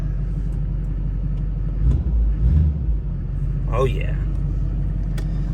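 Duramax pickup truck diesel engine starting and settling into a low, steady rumbling idle close by, with someone speaking briefly over it.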